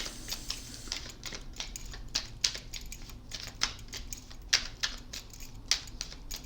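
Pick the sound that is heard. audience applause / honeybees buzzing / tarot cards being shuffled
tarot cards being shuffled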